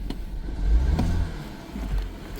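Rough idle of a BMW 116i engine with a cylinder misfire, a close low rumble that swells and dips unevenly with a shaking, irregular pulse.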